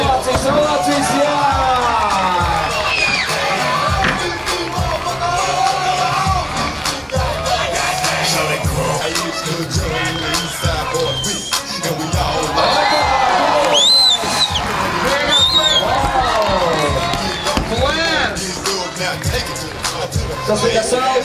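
Spectators at an outdoor streetball slam-dunk event cheer, whoop and shout in a loud, sustained crowd roar with scattered clapping, while an announcer talks over the noise throughout.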